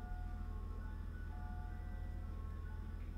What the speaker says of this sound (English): It's an ice cream truck outside.